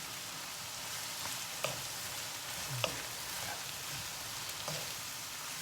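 Carrots, onion and cabbage sizzle softly in a pan, a steady crackling hiss broken by a few sharp scrapes and clicks as a utensil stirs the vegetables.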